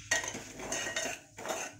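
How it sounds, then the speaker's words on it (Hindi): Leftover mixed vegetables are stir-fried in a pan, with a spoon scraping and clinking against the metal in a few uneven bursts. A faint sizzle runs underneath, and no one talks. "हमारी अभी वेजिटेबल इसको ऐसे भून लो"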